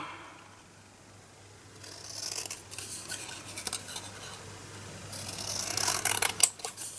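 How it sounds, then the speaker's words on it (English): Scissors snip and rustle through a paper banner for a travellers notebook layout, producing close, irregular cutting and scraping sounds that grow busier toward the end. "I'm going to cut this banner out."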